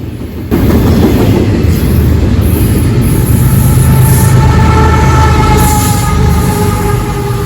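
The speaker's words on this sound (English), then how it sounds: "I-146 can typically run with a distributed power locomotive, or DPU" A CSX intermodal freight train with a distributed power locomotive rolls past close by, a loud, steady roar with rhythmic wheel clatter and faint high squeal sustained throughout.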